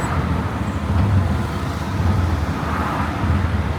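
A tuktuk travels along a road in Sri Lanka in low gear, its steady engine drone and road rumble continuous and fairly loud throughout, with no talking.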